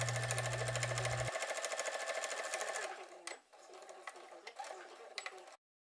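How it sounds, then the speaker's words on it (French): A sewing machine topstitches a pocket bag seam on a jacket, its needle hammering in a fast, even rhythm that stops after about three seconds, followed by soft handling clicks. "on réalise une couture nervure pour maintenir la pièce bien à plat"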